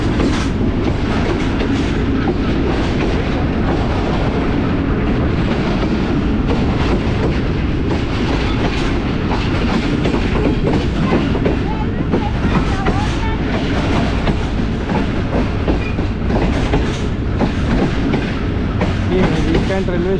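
A train rolls steadily toward Lahore Cantt railway station in Pakistan, a loud continuous rumble with clickety-clack wheel beats running through the whole stretch, heard close from on board.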